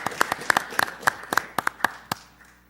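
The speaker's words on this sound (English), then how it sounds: "How about applause for them?" A small audience at a city council meeting in Peoria, Illinois gives a brief round of sparse applause, about a dozen distinct hand claps spread over a couple of seconds before fading out.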